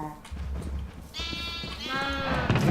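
Minecraft sheep bleating in the game: a few nasal, wavering bleats, close and fairly loud, with a low background hum and faint other sounds underneath.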